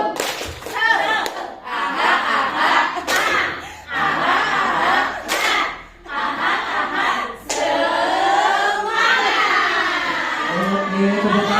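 A group claps a rhythmic cheer pattern in bursts with short pauses between them at an Indonesian positive-culture dissemination session, loud and close, with voices calling out between and over the claps.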